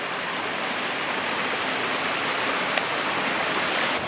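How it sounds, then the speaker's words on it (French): A small waterfall on the Berger river pours in a steady, broad rush of falling water, close and constant for the whole stretch, with no voices. "On a une belle petite chute qu'on peut prendre sur plusieurs angles."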